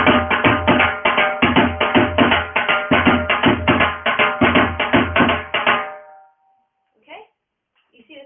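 A dhol plays a sped-up lesson rhythm, a dense run of rapid, driving strokes mixing deep bass hits and sharp slaps for about six seconds, then a couple of faint sounds afterward.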